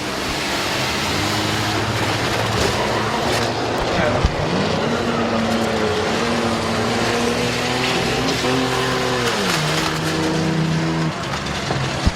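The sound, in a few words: race cars racing around a speedway in a trailer race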